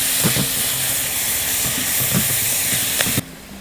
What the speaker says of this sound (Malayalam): എന്നിട്ട് സവോളയ്ക്കകത്ത് ലേശം ഒന്ന് വഴന്ന് കഴിഞ്ഞിട്ട് തക്കാളി പച്ചമുളക് കൂടെ നമുക്ക് ചേർത്ത് കൊടുക്കാം.